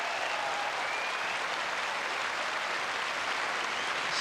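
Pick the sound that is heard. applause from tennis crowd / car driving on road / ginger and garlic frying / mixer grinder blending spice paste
applause from tennis crowd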